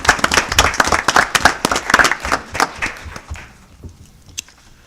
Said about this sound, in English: You both deserve a round of applause